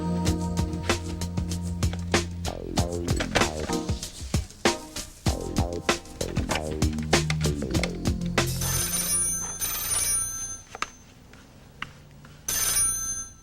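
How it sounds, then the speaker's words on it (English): A telephone rings in a Ghostwriter game, repeated electronic ringing bursts in a steady pattern, loud and alone, followed by the call connecting with brief clicks and tones. "Let's ring up that phone number first."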